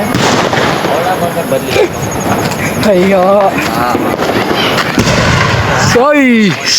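Lakshmi bomb firecrackers go off outdoors during Diwali celebrations, a loud continuous din of bursts and crackling with people talking and exclaiming over it.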